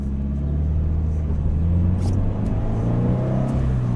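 A Scion FR-S sports car engine revs hard under acceleration, a loud, steady low rumble and whir that rises slightly in pitch over a few seconds, heard close from inside the car with no talking.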